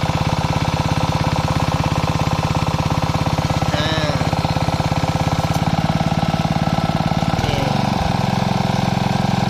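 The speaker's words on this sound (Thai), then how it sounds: "เครื่องยนต์เบนซิน4จังหวะนะครับมิซูบิซิ" A small Mitsubishi four-stroke gasoline engine on a used three-cylinder high-pressure sprayer pump runs steadily at a fast idle, a loud continuous droning putter with no pauses throughout.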